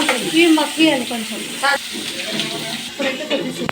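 Paneer gravy curry simmering and sizzling in a pan, a close hissing sizzle with bursts of bubbling, heard under someone talking throughout.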